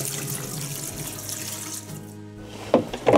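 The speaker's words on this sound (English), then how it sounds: "So you can have clean drinking water just from the tap." Water runs steadily from a filtered kitchen tap, a continuous hiss and splash with a brief dip near the end before a few louder splashes.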